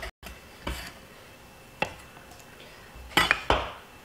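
A knife chops celery on a cutting board, giving a few separate sharp knocks spaced irregularly, then two quick cuts close together near the end, with faint clatter in between.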